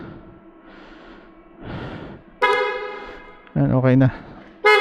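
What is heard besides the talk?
motor scooter horn honking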